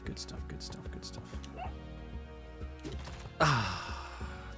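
A dog barks in Spelunky 2, a few short yips and woofs mixed among busy game music and effects, with a louder burst of sound near the end.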